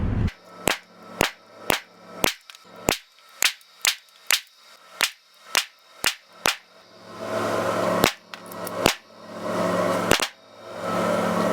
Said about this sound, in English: I have 3 guns to shoot and it's just gonna be a lot of shooting